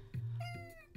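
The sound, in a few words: cat meowing in a cat island video game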